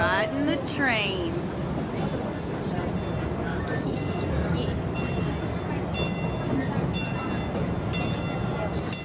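A train rumbles past steadily with rattling wheels and faint metallic clinks, while people talk over the continuous rolling noise.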